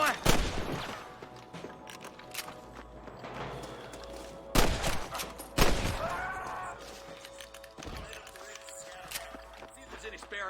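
Gunshots in the video game Red Dead Redemption (2010), several sharp scattered shots over a few seconds amid shouting voices and background ambience.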